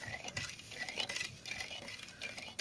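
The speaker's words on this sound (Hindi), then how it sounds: "तो हम इस तरह से चला के एक तरह की चाशनी बनाएंगे" A spoon stirring sugar syrup in a pan while making suji katli, giving a steady run of light scraping and clinking strokes, close and fairly soft, with no voices.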